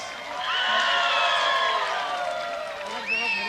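Crowd cheers and whoops for the men's tug of war champions, a Chakhesang cultural troupe, at a traditional competition during the Hornbill Festival, a loud sustained roar with voices shouting throughout and a rising shout near the end.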